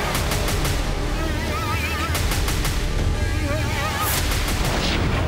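Heavy bombardment explosions from an Israeli air strike campaign over the Bekaa Valley in Lebanon, a dense continuous rumble with repeated sharp blasts and booms throughout, loud and sustained, with some voices mixed in.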